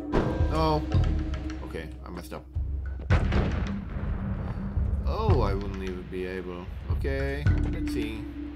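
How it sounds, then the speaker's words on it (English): Bombs exploding in the video game Noita, several heavy thumping blasts scattered through the clip amid busy game effects and chirping tones, with someone talking over them. "I should be able to use the bombs."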